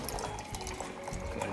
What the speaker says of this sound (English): Filling your water?